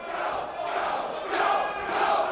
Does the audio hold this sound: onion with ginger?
no